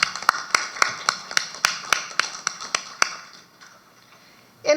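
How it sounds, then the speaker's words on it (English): Evenly spaced hand claps ring out at a launch event for a legal pro bono initiative, sounding sparse and fairly close before fading away after about three seconds. "Please join with me in giving her a resounding round of applause"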